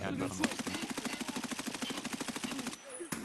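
Rapid automatic gunfire in the Escape from Tarkov video game: one sustained, evenly spaced burst of shots lasting nearly three seconds, loud and close, then an abrupt stop followed by a faint clink.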